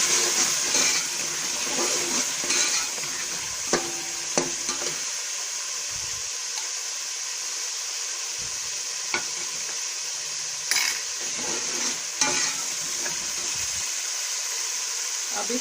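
Spiced masala with turmeric, chilli and garam masala stirred in a frying pan, with a continuous hiss of sizzling and repeated scraping strokes of the spoon, loud and close.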